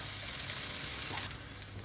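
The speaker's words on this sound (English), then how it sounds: "now they are sizzling away nicely, starting to brown a little bit" Onions sizzling in a pan, a constant bright hiss that shifts slightly in tone partway through, with no talking.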